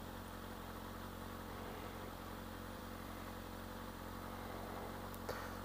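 A 2019 Kawasaki ZX-6R with an Akrapovic exhaust idles with a steady, low rumble, even throughout with no revving, holding a constant drone at moderate level.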